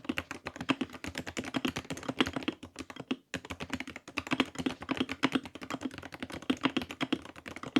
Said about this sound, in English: This is what my stock Ghost Wooting sounded like.